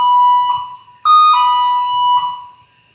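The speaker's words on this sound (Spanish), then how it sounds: "¿viste cómo yo prendí esa alarma?" An electronic alarm goes off indoors in a house, a loud repeating high-pitched beeping pattern of bright tonal pulses with brief pauses, close and alone.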